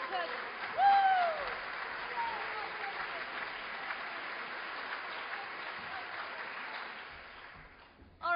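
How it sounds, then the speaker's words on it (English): Audience at a comedy session stands and claps, a steady wash of applause with a whoop near the start, then tailing off before a voice returns. "You can stand up and clap"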